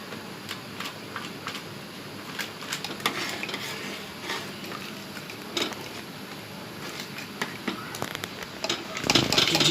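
Ghugni, a yellow pea curry, is stirred in a pan, with a spoon clattering and scraping against the metal in irregular strokes over a soft, steady sizzle.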